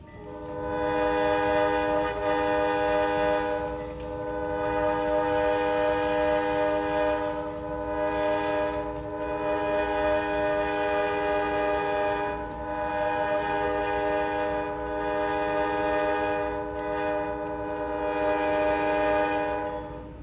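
A Nashville & Eastern freight train led by GE B40-8 and derated B20-8 locomotives sounds its horn in long, loud, sustained blasts, with the steady rumble of the passing train underneath.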